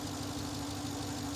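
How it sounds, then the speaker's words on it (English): A BMW i3's engine running at idle, a steady close mechanical hum with an even low throb and a sustained tone, constant throughout with no talk. "But listen to the engine."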